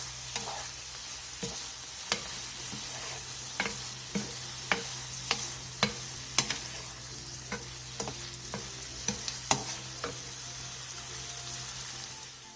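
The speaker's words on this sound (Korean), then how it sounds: "마지막으로 참기름 1티스푼과 통깨를 넣고 가볍게 뒤적여 마무리해주세요" Tofu stir-fried with a teaspoon of sesame oil and whole sesame seeds, a steady sizzle under a dozen or so sharp spatula clicks and scrapes tapping out an uneven rhythm against the pan, close and moderately loud.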